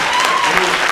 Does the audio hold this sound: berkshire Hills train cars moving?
no